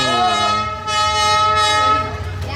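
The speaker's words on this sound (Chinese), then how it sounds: "等的小火车终于开过来喽！" A small train in Hanoi, Vietnam, sounds its loud, sustained horn as it arrives close by, the harmonic blast lingering over the rumble of the cars.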